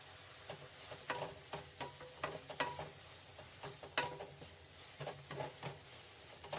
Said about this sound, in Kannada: ಇದಷ್ಟು ಫ್ರೈ ಮಾಡಿಬಿಟ್ರೆ ಸಾಕು